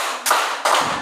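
A class claps together in a counted ice-breaker, two sharp, loud group claps in quick succession, close and distinct with brief quiet gaps between them.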